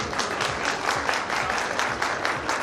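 An audience at a live makeup artist demonstration claps steadily, with a dense, continuous patter of hands filling the space and no voices over it.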